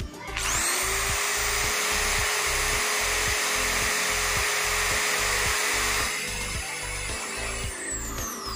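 A DCA ADZ02-6A electric drill rated at 150 watts runs with no load, giving a steady, loud whine that holds for several seconds before easing slightly toward the end, with no voices.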